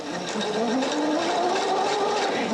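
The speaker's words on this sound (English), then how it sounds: "using that guide, you can sew your 1/4 inch seam allowance" A Husqvarna Viking Opal 650 sewing machine stitching a quarter inch seam along the presser-foot guide, a steady even motor hum with fast needle chatter, close and continuous with no talk.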